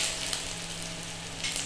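Chopped ginger fries in hot oil in a pan while cooking dal, making a constant close sizzle with a brief stir near the start and end.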